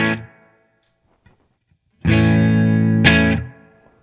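An electric guitar played through its hot neck pickup sounds a heavily effected, distorted note, goes quiet, then rings out with a loud, bass-heavy chord before cutting off.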